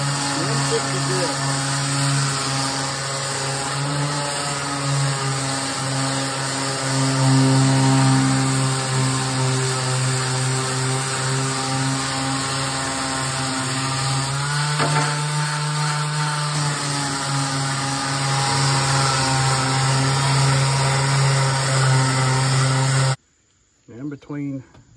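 A power sander works the surface of a Blackstone griddle at 160 grit, a loud continuous whirring drone held for about 23 seconds before cutting off, with a person talking over it.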